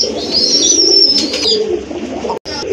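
A big pair of Indian Mumbai pigeons coo loudly and continuously up close, with a brief cut in the sound near the end.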